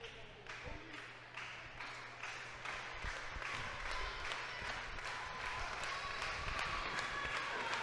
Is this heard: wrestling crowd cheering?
yes